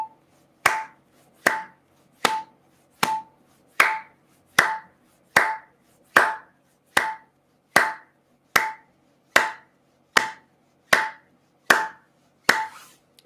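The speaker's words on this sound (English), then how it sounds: "Your clap and the metronome." Sharp hand claps land in an even, steady rhythm, about sixteen crisp, close strikes with short decays, each lined up with a faint metronome click, no voices.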